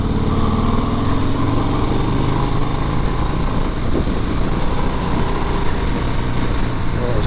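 A 2020 Harley-Davidson Sport Glide engine rumbles steadily and loudly while being ridden, a constant close drone with wind noise.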